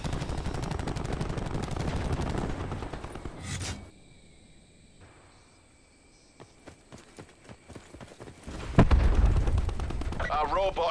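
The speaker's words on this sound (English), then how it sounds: "Our robot is under fire." Gunfire rattles in bursts against a robot in Call of Duty Black Ops 4, loud volleys at the start, a quieter lull with scattered shots, then heavy firing again near the end.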